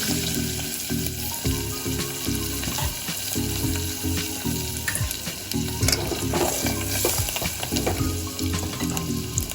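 Dried red chilies and curry leaves, with coriander, sizzle and crackle in hot oil for a South Indian sambar tempering, after mustard seeds, cumin, asafoetida and turmeric. The frying stays steady and close, with stirring, and no voice is heard.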